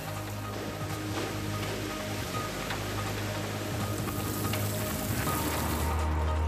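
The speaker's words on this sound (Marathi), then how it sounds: "सोसाट्याचा वारा आणि कडकडाटासह पावसानं पालू गावाला चांगलंच झोडपून काढलं." Heavy unseasonal rain lashes a village with strong wind, a steady broadband hiss of drops on surfaces with a low sustained hum underneath, no speech over it.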